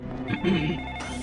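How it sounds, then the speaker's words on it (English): A telephone rings briefly in the video game Mask of The Ring, a short electronic ringing tone over a droning game background. "Ah, we have a phone call."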